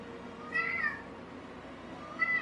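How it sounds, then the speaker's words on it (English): A cat meows twice nearby, a drawn-out mew followed by a shorter one, over a faint background hum with no talking. "Meow."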